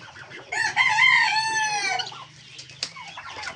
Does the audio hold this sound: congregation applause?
no